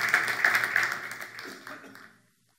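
Church congregation applauding during a Spanish-language service, a bright steady burst of clapping that gradually thins and fades out to silence.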